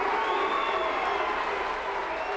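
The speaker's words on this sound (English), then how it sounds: "Supporters of the board cheer the 11-6 vote" Supporters in a Philadelphia City Council chamber cheer an 11-6 vote approving a civilian police review board, a dense, steady roar of crowd cheers and applause that holds loud and even throughout.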